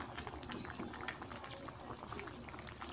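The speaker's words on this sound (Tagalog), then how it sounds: "Pero sisimmer muna natin siya ng 5 minutes." Pineapple chicken stew simmering uncovered in a pot, a dense continuous bubbling and popping that stays close and moderately loud throughout, with no clear talking.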